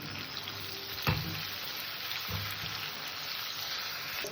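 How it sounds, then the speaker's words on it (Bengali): Chopped onions sizzle in hot oil with salt in a pan, a steady even frying hiss with a couple of brief stirring clatters, close and unbroken. "পেঁয়াজটাকে একটু হালকা লাল করে ভেজে নেব লবণটা আমি পেঁয়াজের মধ্যেই দিয়ে দিলাম"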